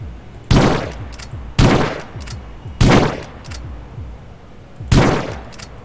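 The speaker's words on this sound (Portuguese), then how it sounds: "Olha o áudio da sniper, que legal, né?" Four loud, separate sniper rifle shots from a GTA IV weapon sound mod crack out at uneven intervals, each followed by a short echoing tail.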